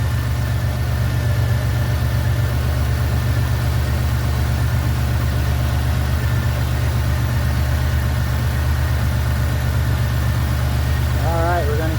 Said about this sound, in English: You hear the engine change. That means the air compressor is getting ready to